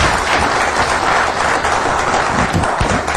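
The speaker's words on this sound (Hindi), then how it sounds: "सभी बच्चे लोग एक बार इंडिया न्यूज के लिए जोरदार तालियां।" A crowd of children claps loudly in a dense, continuous burst, many hands together in an indoor hall, holding at a steady level to the end.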